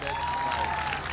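Audience applause for dancers returning to the stage at an African cultural show: a short, even wash of clapping from the crowd, with a faint steady tone running beneath it.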